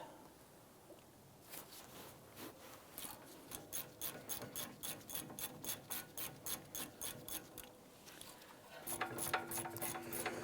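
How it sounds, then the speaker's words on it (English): A ratchet loosens the 15mm caliper bracket bolts on a 2011-2019 Ford Explorer rear brake, clicking in an even rapid series of close pawl ticks, with a faint whirring sound near the end. "these two 15mm bolts, loosen and remove these"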